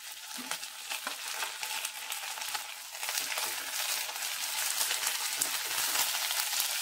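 Cubed, seeded tomatoes fry and get stirred in a pan, a steady bright sizzle with soft scraping, rising slightly in loudness throughout, no voices.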